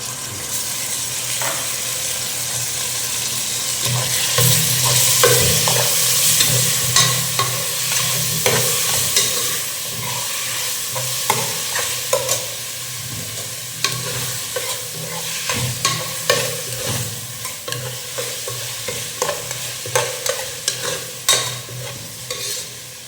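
Tomato and potatoes fry in hot oil for a potato beef biryani, giving a loud, steady sizzle over repeated stirring scrapes that become rhythmic and punchy in the second half.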